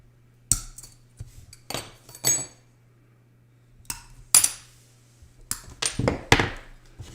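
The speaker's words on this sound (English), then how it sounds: "we got our running pliers" Running pliers snapping stained glass along a score line, giving sharp clinks and glassy cracks in scattered bursts, close and crisp against a faint steady hum.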